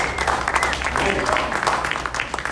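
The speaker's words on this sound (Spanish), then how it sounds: "Démosle palmas al Señor por hermana Josefina" A church congregation claps together in a steady burst of applause, dense and continuous for a couple of seconds, with voices mixed in.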